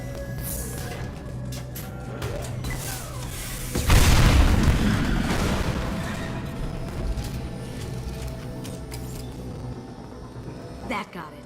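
Fuel tanks blow up in Mass Effect Legendary Edition: a sudden loud, deep boom bursts in partway through and rolls off slowly over a rumbling battle background with voices.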